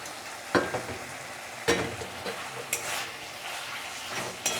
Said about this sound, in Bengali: এবার আলু দিয়ে আর একটু ভালো করে কষিয়ে নেব। সাথে আমি কাঁচা লঙ্কা চেরা দিয়ে দিচ্ছি।